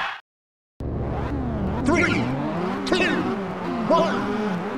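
A race car engine in the video game Ridge Racer Type 4 starts after a brief silence and roars steadily, its pitch climbing and dropping through gear changes on the Wonder Hill course.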